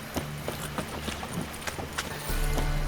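Horse hooves clip-clop at a walking pace in The Witcher 3, a steady rhythm of close hoofbeats with a low rumble rising near the end.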